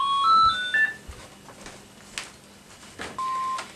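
Short electronic phone beeps, a rising series of tones followed by a single held tone, close and clear with some room clatter between.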